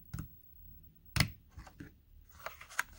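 Scissors snip through scored card in a few quiet, sharp clicks and crisp cuts spaced irregularly, close by and with no talk.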